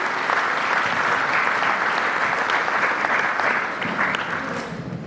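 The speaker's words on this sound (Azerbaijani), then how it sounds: "Alqışlarınızla." Sustained audience applause at an Azerbaijani documentary film premiere ceremony, dense steady clapping from a large crowd that stays loud throughout and tapers slightly at the end, with no speech over it.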